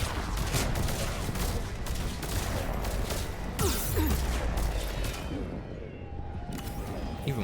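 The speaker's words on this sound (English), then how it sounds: "just like shooting constantly" Constant gunfire in the video game Mass Effect 3, a dense stream of rapid shots and booming impacts that runs nearly unbroken, with talk mixed in.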